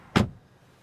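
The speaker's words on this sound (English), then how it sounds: "Now let's close the doors. These are of course frameless." A 2025 Mercedes-AMG CLA 35 Coupe frameless door with single glazing swings shut with one solid, close thud, followed by a brief quiet interior and a faint second knock at the very end.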